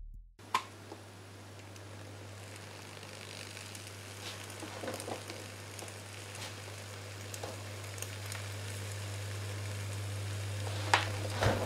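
Bread connected to 230-volt mains electricity sizzles and crackles faintly over a steady low mains hum, with scattered sharp pops and ticks growing slightly louder toward the end.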